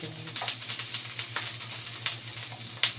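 Onions frying in a pan for corned beef, a close, steady sizzle with a few louder crackling bursts over a low electrical hum, no voices.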